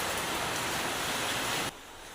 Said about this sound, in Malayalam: പുറത്ത് നല്ല മഴ, പക്ഷേ സൂര്യനുണ്ട് കേട്ടോ ഇന്ന്.